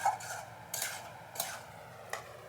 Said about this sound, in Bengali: তো ভালো করে আর একটু কষিয়ে নিচ্ছি